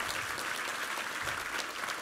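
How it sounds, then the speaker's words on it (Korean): A congregation claps together during a Korean Sunday church worship service, producing a dense, steady wash of applause that fills the room without any speech. "우리 하나님께 감사와 영광의 박수 올려드리겠습니다"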